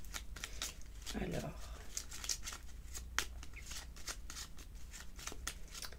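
Small oracle cards, a petit Lenormand deck, being shuffled by hand in quick papery riffles and slides, close and fairly quiet, with someone speaking French briefly over the cards.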